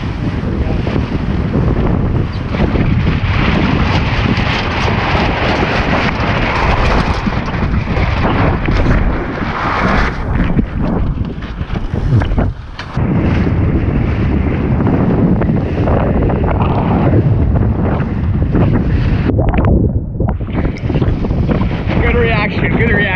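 Strong wind roars across a Lightning sailboat planing fast on a very windy day, with rushing water and hull spray continuous and loud for the whole stretch; people talk briefly under the noise.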